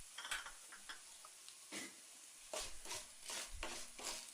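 Urad dal, cumin and coriander seeds fry in oil in a pan while being stirred for ginger chutney, giving a faint, close sizzle broken by intermittent scraping and stirring strokes.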